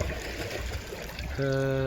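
Water flowing in an outdoor river-type pool with a wave-shaped bottom at the Vața Băi complex, a continuous gurgling rush nearby, joined near the end by a steady humming tone.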